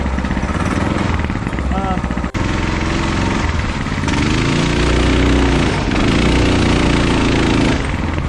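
A KT196 drift go-kart engine buzzes and revs during a test run, a rough, close mechanical drone with rising pitch sweeps, while people talk and shout over it.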